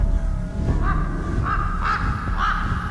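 Crows caw in the video game Rise of Insanity, four or five harsh calls spaced irregularly over a low, steady ambient drone.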